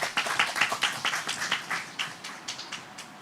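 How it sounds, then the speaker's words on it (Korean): A small audience claps to welcome panelists at a MICE industry roundtable in Jeju, a sparse, rhythmic patter of a few hands with distinct individual claps, fading slightly toward the end, with no talk. "큰 박수로 맞이해 주시기 바랍니다."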